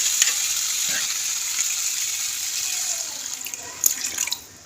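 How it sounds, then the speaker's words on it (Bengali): Water is poured into a pan of sizzling oil-separated masala for a Kaikya fish curry, a steady loud hiss and bubbling with a few sharp spits near the end and no talk. "মশলাটা তেল ছেড়ে গেছে, এবার একটু জল দিয়ে দেবো।"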